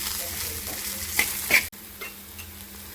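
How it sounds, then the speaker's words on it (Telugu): Mushrooms and onions with salt and ginger garlic paste being stirred in a frying pan, a close sizzle with a couple of scraping strokes and a sharp clink before it drops to a softer hiss. "అండ్ అలాగే కొద్దిగా జింజర్ గార్లిక్ పేస్ట్ కూడా యాడ్ చేసుకొని ఇలా బాగా మిక్స్ చేసుకోండి."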